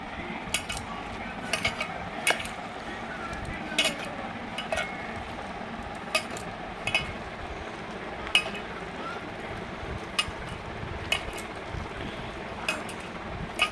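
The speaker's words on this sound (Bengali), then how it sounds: "লঙ্কা, লবণ আর চুনো মাছ নিয়ে এবার এটাকে ভালো মতো মেখে নেব।" Small whole fish being hand-mixed with chilli, salt, gram flour, garam masala and onion in a bowl: a steady wet squelching and stirring with repeated sharp clinks of utensils against the dish, close and continuous, no talking.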